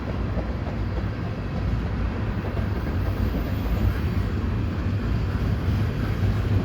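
A three-engine CPKC westbound intermodal freight train rolls past Dorval at night, a steady, loud low rumble of wheels and cars with faint clickety-clack and wind buffeting the microphone.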